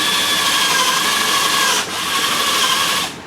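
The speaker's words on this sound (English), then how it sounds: "Drill a few little pilot holes." A power drill fitted with a Kreg tool bit bores small pilot holes in #2 lumber for a countertop, giving a steady, loud motor whine that dips briefly midway, resumes, then cuts off near the end.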